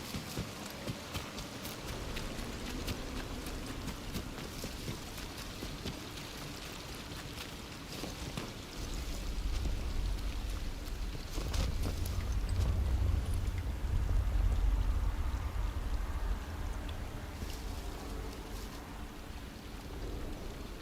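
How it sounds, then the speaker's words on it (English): Steady broadband rushing of a waterfall in a video game, a continuous wash that swells louder in the middle with a deep low rumble, heard alone with no talking. "the waterfall right there"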